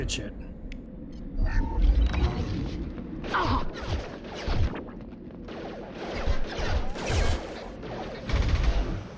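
Gunfire in Mass Effect 2 on Insanity difficulty, a busy firefight of repeated shots and impacts running throughout under game effects, with someone talking over parts of it.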